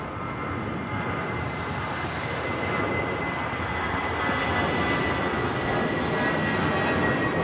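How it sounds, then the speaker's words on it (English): A Spirit Airlines Airbus A320 taking off from Los Angeles International Airport produces a broad, steady jet roar that swells slightly louder toward the end, heard alone without talk. "This is Spirit Airlines Flight 311 taking off to San Antonio on the A320."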